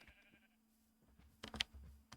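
Minecraft sheep bleating, a short faint bleat breaking through quiet game ambience about midway, with a soft tone and low hum lingering behind.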